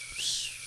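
A person whistles a short, bright, rising-and-falling note, imitating the call of a male blue-footed booby; close and alone, under a second long.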